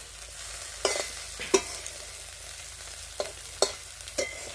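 Fresh fish frying in a pan, a low steady sizzle broken by several sharp pops and spits at irregular moments, with no voices.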